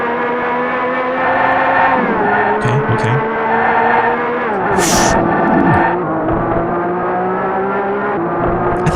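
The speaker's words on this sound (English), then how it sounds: "Like these engine noises are pretty cool." Racing car engines from a SNES video game, loud continuous droning engine tones that rise and fall in pitch as the car speeds up and shifts, with brief squeals and game effects; a voice says one short word.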